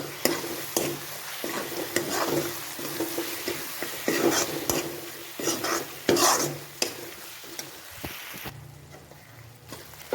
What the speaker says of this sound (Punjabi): ਹੁਣ ਇਸ ਵਿੱਚ ਜੋ ਆਪਾਂ ਬੈਂਗਣਾ ਨੂੰ ਭੁੱਜਿਆ ਸੀ ਉਸ ਨੂੰ ਐਡ ਕਰਾਂਗੇ ਚੰਗੀ ਤਰ੍ਹਾਂ ਮਿਕਸ ਕਰਾਂਗੇ